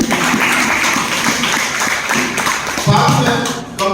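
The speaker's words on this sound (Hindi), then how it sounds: "जोरदार ताली।" An audience at an achievers' recognition event claps loudly, a busy mix of applause and individual claps with some voices underneath.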